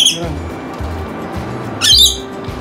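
Lorikeet squawking in two harsh, bright bursts, one at the start and a louder one near the end, close by, while people talk underneath.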